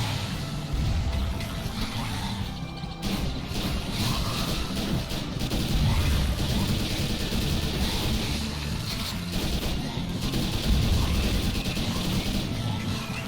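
Rapid gunfire in a VR zombie training shooting game, a dense, loud run of shots with brief pauses, heard alone without talk.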